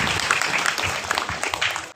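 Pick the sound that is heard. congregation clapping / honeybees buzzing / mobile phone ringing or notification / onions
congregation clapping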